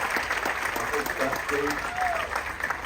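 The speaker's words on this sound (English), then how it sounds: "Please give a big round of applause for our" Audience applause for backstage technicians at a live show, dense sustained clapping throughout, with a voice speaking briefly over it.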